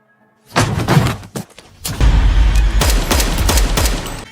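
Film gunfire erupts in a rapid volley of sharp shots and thuds, loud and close, with a brief pause before a denser, sustained burst of firing and impacts.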